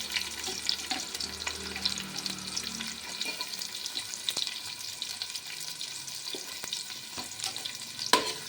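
Chopped onions frying in a pan for lemon chicken, a soft continuous sizzle with scattered light clinks and scrapes of stirring, fairly quiet and without talk.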